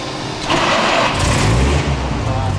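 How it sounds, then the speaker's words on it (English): A Hetzer tank destroyer's engine cranks and catches, rising into a loud rumble before settling toward a rough idle, heard close by. "The engine is running smoothly"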